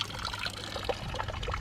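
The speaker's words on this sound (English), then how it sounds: "Oh, trickling water." Water trickles and burbles steadily outdoors on a starry night, a close, continuous babbling flow with no voices over it.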